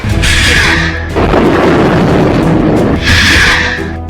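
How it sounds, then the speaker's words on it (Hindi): Hamas rockets launching, a loud roaring whoosh that swells in bursts, rising into a harsh rushing blast and then surging again. "इसके बाद लॉन्च हुआ तीसरा रॉकेट।"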